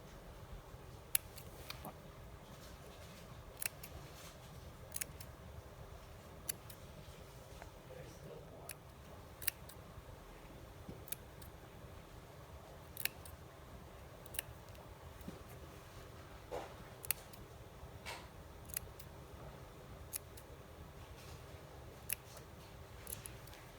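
Scissors snipping close along the backing of faux fur, a series of faint, sharp little clicks spaced a second or two apart over a quiet, steady background hush.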